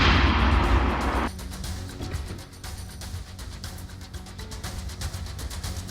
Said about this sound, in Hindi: लेकिन मिसाइल एक के बाद एक दागी जा रही है रूस की तरफ से।